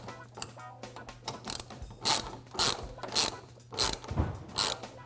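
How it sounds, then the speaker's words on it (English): A socket ratchet tightens the bolts on a metal snowboard bracket, its pawl clicking in quick repeated bursts of strokes, close and fairly loud, with no talk. "Grab your socket and tighten those up."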